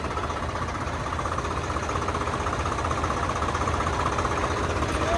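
Several tractors work a large field during ploughing, their engines giving a steady, loud, continuous rumble with a rattling, knocking texture that persists throughout without pause.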